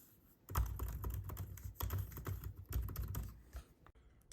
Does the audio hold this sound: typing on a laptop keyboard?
yes